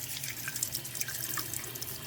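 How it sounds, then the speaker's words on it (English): Water running from a tap down a drain and over a waterproof USB endoscope camera: a close, steady trickling splash with small drips, heard alone. "You can see that water going down over the camera, and there's no issues with that."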